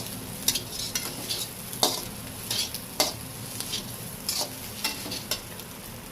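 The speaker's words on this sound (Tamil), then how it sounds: "நல்லா கிளறி விட்டுக்கோங்க ஃப்ரெண்ட்ஸ்" Kothu parotta being stirred on a hot pan, a continuous sizzle broken by repeated sharp metallic scrapes and taps in an irregular rhythm, near and clear with no speech.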